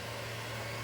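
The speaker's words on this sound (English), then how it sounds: "This printer is printing" Continuous whirring hum of a 3D printer running while it prints neck joint parts for an InMoov robot, steady and fairly close with no voices.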